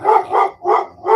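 Several dogs bark in a quick burst, four loud, close barks in a ragged rhythm with brief gaps between them and no talking.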